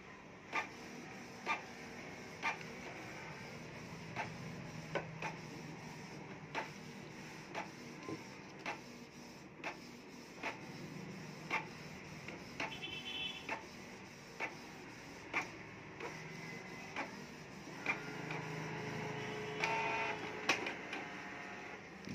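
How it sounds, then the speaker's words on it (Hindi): A Canon inkjet printer runs a copy job, a steady mechanical whir with regular ticking clicks of the carriage roughly every second, fairly quiet and without talk. "हमारा जो प्रिंटर है वो इन कर लिया है पेपर और फोटोकॉपी करने की कोशिश कर रहा है"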